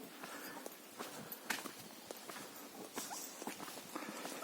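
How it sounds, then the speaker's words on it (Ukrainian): Footsteps crunching and rustling through wet undergrowth in a dense May forest in Khmelnytskyi Oblast, Ukraine, irregular steps close by over a soft background of rain. "Отак я продовжую йти лісом."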